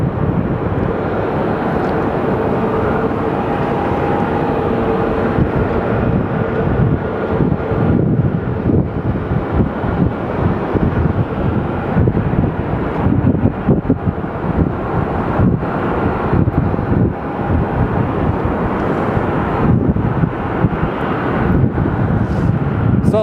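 Loud, continuous roar of an airliner at Sky Harbor Airport in Phoenix, a deep rumbling engine drone with wind buffeting the microphone, sustained for the whole stretch with no talking.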